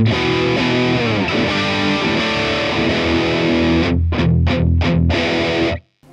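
Electric guitar played through a Laney LV300 Twin amp with the V scoop switched on, giving a heavily distorted, chorus-tinged tone: sustained chords, then four sharp palm-muted chugs before a brief silence.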